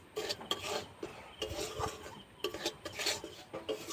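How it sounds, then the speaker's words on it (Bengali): Flour and semolina are dry-roasted together in a pan over a very low flame for danadar sweets, with irregular scraping and stirring strokes against the pan throughout, fairly close. "এবার আমি ময়দা সুজিটা ভেজে নেব"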